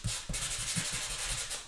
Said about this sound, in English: So when you sand it like this, it's actually going to show through.